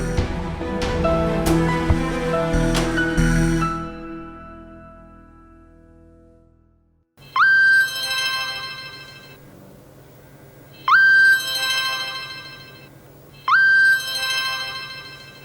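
A mobile phone rings three times with an electronic tone that rises and then holds, each ring separated by a pause, after soft background music fades out.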